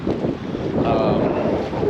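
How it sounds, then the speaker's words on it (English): Strong gusts of wind roar steadily across a lake beside a canoe, loud broadband rushing with wave wash, continuous for the full stretch without talk. "a few more of these big old gusts of wind have come"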